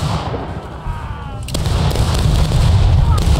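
Booming volleys of musket and cannon fire from a realistic Civil War battlefield video game during a final charge, loud and sustained, with a heavy burst partway through.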